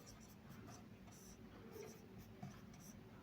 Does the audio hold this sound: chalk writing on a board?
yes